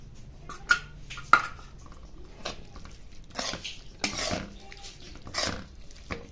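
A mixture of khoa and sugar is beaten by hand in a bowl for carrot halwa: irregular metal-on-bowl clinks and soft scraping strokes, close and moderately loud, with a few sharper taps.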